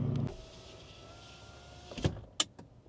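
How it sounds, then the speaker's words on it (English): A car's electric power window motor runs close by as the glass rolls up, a steady whine for about two seconds that ends in a soft thump as it seats, followed by a couple of small clicks. "and then roll the window up"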